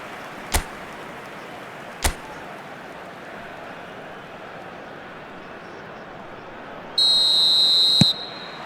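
In a football video game, a referee's whistle sounds one sustained, shrill blast to start the match, after two sharp earlier thuds over a low stadium crowd ambience.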